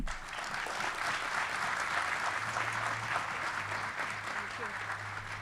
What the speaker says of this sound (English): Let's clap again for the 4th campus.